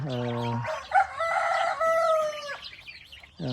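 Chicks and chickens cluck and crow up close, with drawn-out calls and bursts of clucking in a quiet setting; no talking.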